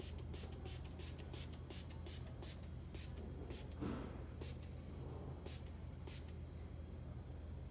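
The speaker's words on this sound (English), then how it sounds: "And then this comes with the green patina spray." Green patina spray hisses from an aerosol can onto a craft piece in a series of short, quick bursts, with one longer spray in the middle, close and fairly quiet.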